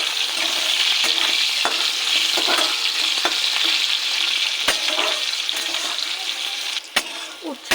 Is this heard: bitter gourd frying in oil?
yes